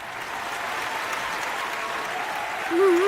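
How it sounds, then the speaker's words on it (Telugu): An audience claps steadily at a stage award event, a dense even wash of applause that swells louder near the end, with a voice briefly audible under it. "క్లాప్స్."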